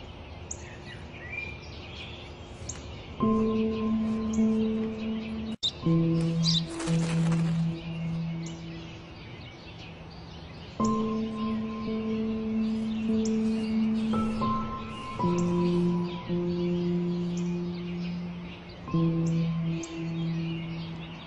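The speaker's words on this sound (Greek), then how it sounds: "Τόσες φορές σου είπα, είναι ένα σπουργίτη!" A sparrow's chirps and tweets flicker over a steady hum, with sustained tonal buzzing that comes and goes in long stretches.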